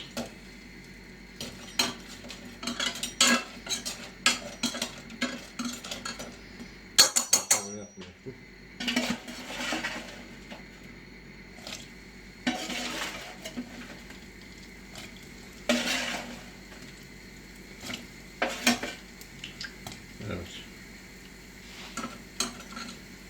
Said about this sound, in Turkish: Görüyorsunuz şerbet atarken bile takır takır ses geliyor.